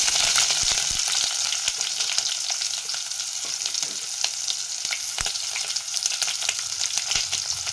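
Curry leaves and onion frying in hot oil with mustard seeds, a loud continuous close sizzle with crackles and occasional stirring knocks, no voices.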